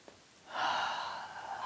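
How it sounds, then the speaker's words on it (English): One deep, slow breath taken during a yoga stretch, a soft airy inhale that swells and holds close to the microphone, quiet and alone. "2 more deep breaths here, stretching all the spaces in between the ribs"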